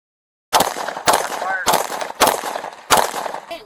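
Gunfire in a midday police shootout at Arnold Park in San Antonio: five sharp, loud shots at irregular intervals, each a harsh crack with a short echoing tail, and no talk.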